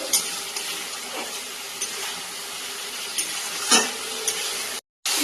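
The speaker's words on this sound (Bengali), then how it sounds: "ভেজে রাখা পটলটাকে মশলার সাথে কষিয়ে নেওয়া হয়ে গেছিলো" Fried pointed gourd sautéing with spices in a pan makes a continuous, close sizzle broken by occasional spoon scrapes. The sound cuts out briefly near the end.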